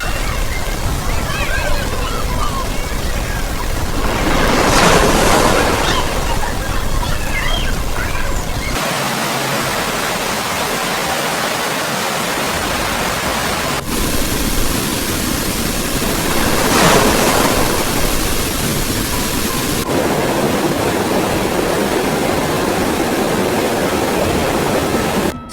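Floodwater rushes in a powerful stream during heavy monsoon rains in Himachal Pradesh, India, a loud, continuous roar with surging swells and abrupt cuts between shots.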